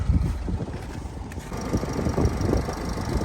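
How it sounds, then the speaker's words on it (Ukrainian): Renault Koleos 2.0 dCi diesel engine idling, with a vibration fault in one mount, a steady low rumble and mechanical churn heard up close under light wind noise on the microphone. "Зараз покажу що мотор, як працює мотор"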